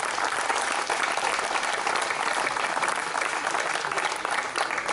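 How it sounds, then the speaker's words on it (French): An audience at a speech gives a dense, steady burst of applause that fills the whole stretch at a constant level, its many overlapping claps blending into a continuous wash. "donc je crois qu'on peut l'applaudir bien fort"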